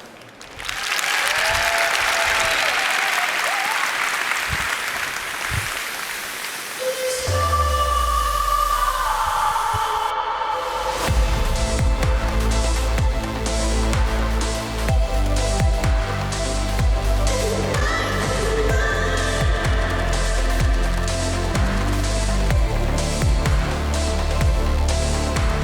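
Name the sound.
audience applause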